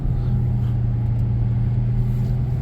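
Steady low engine drone and road rumble from a 2014 Dodge Grand Caravan van on a test drive, heard from inside as a continuous even hum with no talking.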